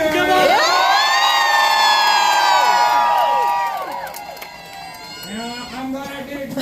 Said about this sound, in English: Make some noise for Cooter.